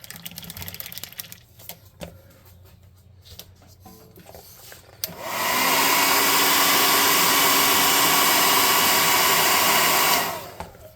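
A hair dryer blows on fresh paint on a handmade sand devil model for a tabletop game, switching on abruptly after quiet handling noises and running loud and steady for about five seconds before cutting off.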